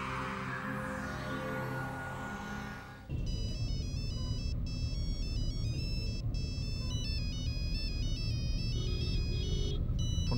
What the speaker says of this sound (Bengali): ফোনটা ধরো, সমস্যা কি?